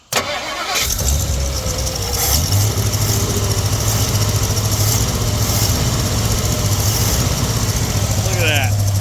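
A 1957 Ford Fairlane 500 Skyliner with a leaking carburetor and failing accelerator pump cranks briefly, fires up and settles into a loud, steady, slightly lumpy idle close by.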